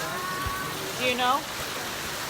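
Steady rain falls in Ghana, an even hiss throughout while a person briefly speaks over it.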